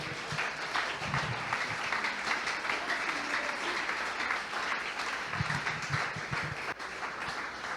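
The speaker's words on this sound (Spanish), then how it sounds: "Démosle un aplauso al Señor." A church congregation claps for the Lord during a Spanish-language missionary sermon, a steady, moderately loud round of applause that lasts several seconds and fills the room evenly.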